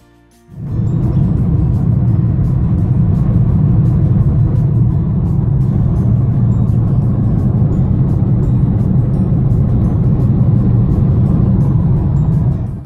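A car drives along a road toward Giyani in Limpopo, a loud, steady low rumble of engine and road noise heard from inside, constant throughout after a brief start, with no talk.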